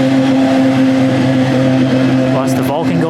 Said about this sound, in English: Watch the Vulcan go by.